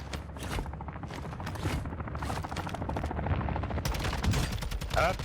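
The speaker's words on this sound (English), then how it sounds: "I'm going to give you an opportunity to just watch this gunfight play out as I use my favorite gun in the game" Call of Duty DMZ gunfight with a favorite weapon: rapid bursts of automatic gunfire crackle throughout, dense and close, with sharper shots near the end and no speech.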